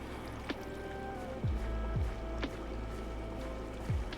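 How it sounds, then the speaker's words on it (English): Water being placed in Minecraft, heard as soft watery splash and flow sounds that repeat several times at irregular intervals, faint and close, with no talking. "And then I can put down some more water."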